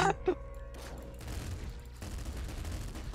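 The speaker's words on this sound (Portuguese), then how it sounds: "os tiros tá vindo em mim, mano" Rapid gunfire in a multiplayer video game, a sharp burst up front followed by a sustained rattle of distant shots over a low rumbling background.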